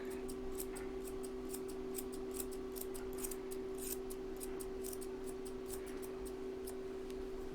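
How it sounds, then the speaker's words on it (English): Curved grooming shears snipping around the back of an American Cocker Spaniel's foot, a long run of quick, light metallic snips in an uneven rhythm over a steady electrical hum. "I pick their foot up and I go around the back side like this with my curved shears"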